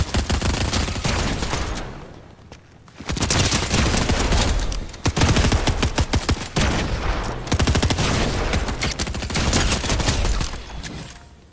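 Rapid video-game gunfire while fighting AI enemies in a Zero Build battle royale match, dense overlapping bursts of shots nearly continuous across the span, loud and close with a brief lull.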